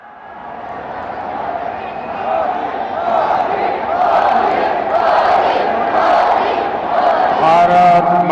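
A large rally crowd applauding and cheering for PM Modi in Kutch, a swelling roar of clapping and shouts that builds steadily and stays loud, with a voice on the loudspeaker rising above it near the end.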